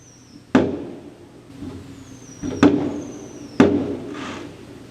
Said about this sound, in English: Sorry for the noise in the background. The neighbors are setting off fireworks.